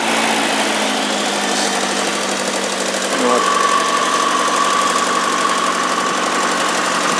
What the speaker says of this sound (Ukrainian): Двигун від автомобіля Москвіт 407